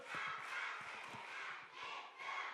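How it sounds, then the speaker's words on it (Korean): A children's audience at a Korean kids' Daniel prayer meeting in church claps and cheers together, a brief, full burst of hand claps mixed with young voices, fairly close and steady. "집중의 박수."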